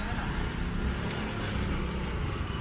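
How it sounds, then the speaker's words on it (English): Road traffic stuck in a jam in Cambodia fills the air as a dense, steady engine rumble and street noise, close and continuous, with faint voices underneath. "Traffic jam."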